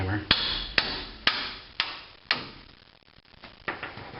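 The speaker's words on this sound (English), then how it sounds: "Brass hammer." A brass hammer strikes an axle part during a Rockwell FDS 75 front axle rebuild, giving five sharp metallic taps in an even rhythm, then a few softer knocks, all close and without speech.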